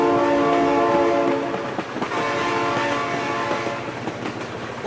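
A train in the BeamNG driving game passes close by, its horn holding a loud sustained multi-tone blast over rumbling wheels and clattering rail noise, continuous for about five seconds.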